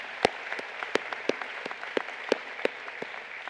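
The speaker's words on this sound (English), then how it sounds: "Please give these important people who inspired you, taken care of you, and always had your back a big round of applause" Audience at a 2023 high school graduation clapping, scattered individual claps spread across the crowd rather than a dense roar, moderately close, with no talking over it.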